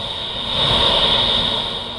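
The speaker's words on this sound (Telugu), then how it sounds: "రన్వే పై ల్యాండ్ అయిన ఇండిగో ఎయిర్ బస్ కి వాటర్ కెనాల్స్ తో సిబ్బంది స్వాగతం పలికారు" An IndiGo Airbus airliner on the runway after landing, its jet engines giving a steady loud whine and roar that swells slightly midway, with no voices.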